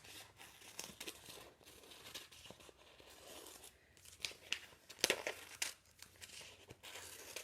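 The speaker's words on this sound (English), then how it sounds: "Then you can take your scissors and you can cut that out." Scissors snip through crinkly contact paper for a craft sun-catcher, producing quiet, irregular crackling and rustling with sharper cuts clustered toward the end, close and alone.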